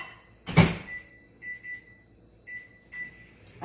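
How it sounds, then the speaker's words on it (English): Microwave oven heating cake batter in a ceramic egg cooker: a loud clunk of the door closing, then several short electronic beeps as the timer is set, over a faint steady hum. "So let me put it in the microwave for 1 minute."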